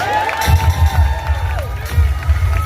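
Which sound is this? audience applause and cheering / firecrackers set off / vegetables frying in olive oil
audience applause and cheering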